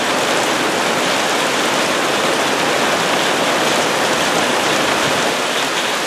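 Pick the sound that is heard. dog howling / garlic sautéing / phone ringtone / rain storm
rain storm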